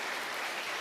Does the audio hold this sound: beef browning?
no